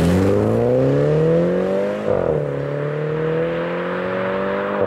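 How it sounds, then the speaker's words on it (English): A 2015 Mini John Cooper Works hatch with an automatic gearbox accelerates hard, its induction roar and exhaust rising in pitch, dropping briefly at a quick upshift, then climbing again, loud and close with no talking. "there's great induction roar and exhaust snorts when you're getting up it."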